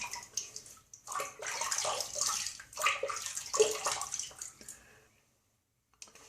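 Water splashes and drips at a sink as a face is wetted before shaving, a few seconds of close splashing that tapers off into quiet.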